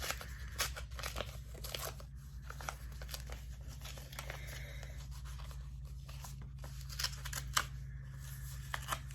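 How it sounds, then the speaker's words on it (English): Packaging of a witch-themed box is ripped and torn open by hand: quiet, close bursts of tearing and crinkling paper in irregular spurts over a steady low hum, with no talk. "I gotta rip it to open it."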